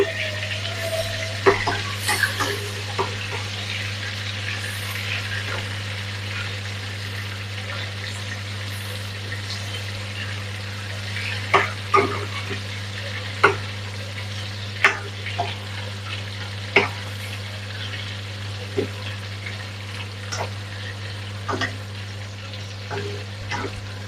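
Prawns frying in hot oil, a steady low sizzle with repeated sharp scraping clicks as the spoon stirs the pan, running alone without talk.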